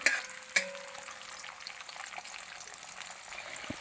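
Garlic frying in a pan for Kerala-style fish pickle, a soft steady sizzle with a couple of sharp early clinks as it is stirred, moderately quiet and alone.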